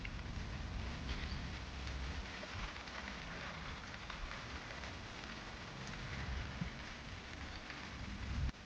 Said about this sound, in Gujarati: વરસાદ પણ આવી રહ્યો છે હવે